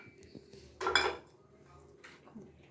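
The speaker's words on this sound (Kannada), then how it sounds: "ಫಸ್ಟು ಈರುಳ್ಳಿ ಮಾವಿನಕಾಯಿ ಹುರ್ಕೊಂಡದ್ದು ಮಿಕ್ಸಿಗೆ ಹಾಕ್ತೀವಿ" Fried onion and raw mango pieces tipped into a mixer jar: one brief, loud clattering scrape of a utensil against the container, with faint knocks before and after in an otherwise quiet kitchen.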